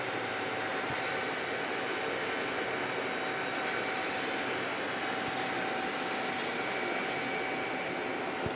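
An airliner rolls down runway 8 at Phoenix Sky Harbor after landing, its engines giving a steady, broad roar and whine that holds evenly throughout, heard from a distance.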